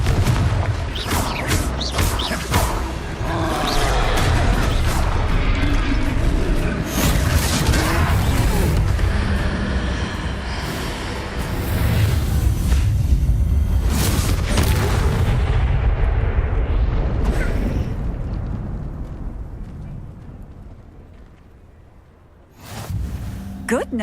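A Confringo fire spell bursts in a Hogwarts Legacy troll battle, with loud, dense booming explosions and crashes rolling almost continuously for about twenty seconds before fading, then one more sharp blast near the end.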